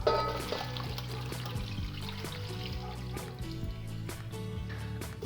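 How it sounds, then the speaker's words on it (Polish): Mushroom soaking water pours steadily into a pot over vegetables, a continuous splashing trickle at close range with no voices. "Teraz te warzywa należy zalać wodą z grzybów."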